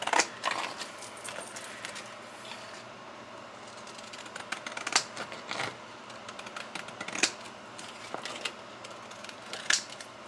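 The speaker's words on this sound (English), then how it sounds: "now I do want to cut it with the stamp scissors" Decorative stamp-edge scissors cut a paper tag with quiet, irregular snips and clicks, spaced unevenly and close to the listener.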